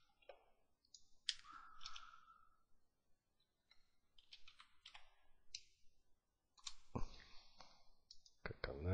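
Computer mouse clicks during a digital car painting session, a scattering of sharp, close taps in irregular bursts separated by short silences.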